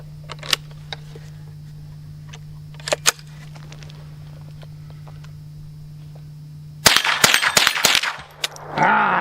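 Gunshots from a Henry AR-7 .22 survival rifle: a few sharp single cracks early on, then a fast string of loud, close reports near the end, over steady background hum.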